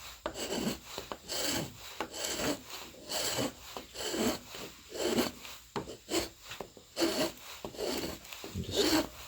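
A hand rasp files and shapes a mulberry wood hammer handle, rounding over corners in repeated rough rasping strokes, close and steady, about a dozen passes alone without talk.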